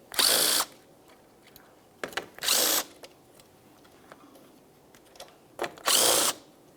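A power tool removes the grille mounting nuts on a 2006-2012 Ford Fusion, sounding in three short, loud whirring bursts separated by quiet pauses and faint clicks.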